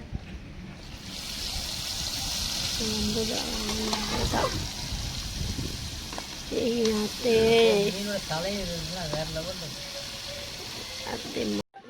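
Oil sizzles steadily as fish for biryani fries in a pan, while voices talk over it nearby.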